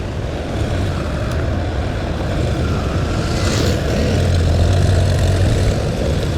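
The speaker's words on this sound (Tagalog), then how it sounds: "Kumikending ang jet." Loud, steady aircraft engine roar from a jet maneuvering overhead outdoors, a continuous drone that swells slightly toward the end, with no talking.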